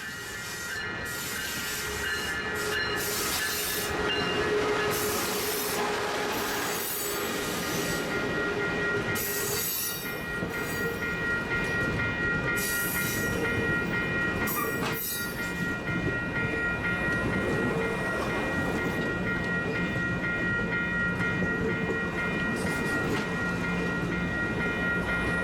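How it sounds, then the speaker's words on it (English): Amtrak Surfliner train 1770, powered by a Siemens SC44 Charger locomotive, rolls into San Diego's Santa Fe station with a steady rumble, metallic wheel squeals and brake screeches, heard close and continuous for the whole stretch. "Amtrak train 1770 was pulling into San Diego's Santa Fe station after a short run in from Oceanside, California"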